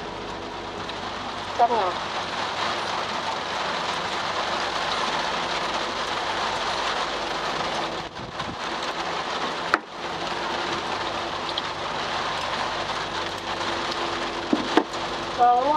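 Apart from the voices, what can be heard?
rain falling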